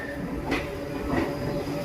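A local MEMU train runs along the rails, giving a brief, steady rolling rumble with rising clatter, heard up close for just a couple of seconds.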